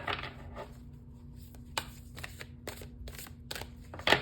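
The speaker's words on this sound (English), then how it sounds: "One more shuffle." Tarot cards being shuffled by hand at a reading, a run of soft papery riffles and sharp snaps coming in quick bursts with short pauses between them, heard close and alone without any talk.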